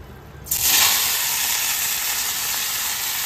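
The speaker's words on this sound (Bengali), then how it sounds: "এখন এই তেলে ফোড়ন দেবো এই গিমাটা" Tempering spices dropped into hot oil for a Bengali dish of bitter gima greens and eggplant burst into a loud, steady sizzle after a brief quiet start, hissing continuously up close with no voices.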